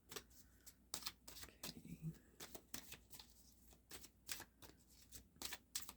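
Animal medicine cards are drawn and shuffled from a deck during a tarot-style reading, giving a run of quick, crisp riffling and slapping bursts close by under a soft murmur of talk.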